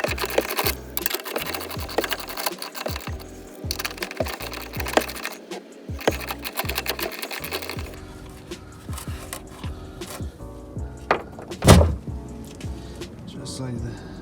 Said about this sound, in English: we pretty much want to get a 13mm socket with the ratchet and get these two screws right here